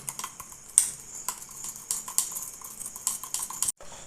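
Clay being stirred into glycerin for handmade soap, a utensil clinking and scraping against the bowl in quick, irregular taps and scrapes, close and fairly quiet, with no talking.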